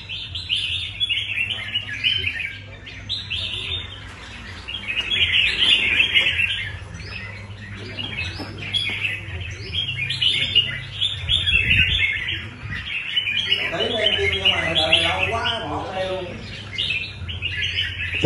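Many pigeons coo and flutter at a pigeon racing loft, with birds chirping and twittering steadily and someone speaking over the flock at times.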